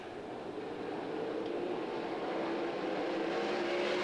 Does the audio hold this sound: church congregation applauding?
no